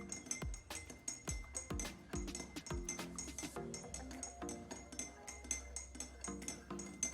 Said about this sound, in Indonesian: Selanjutnya, lakukan pengadukan secara perlahan.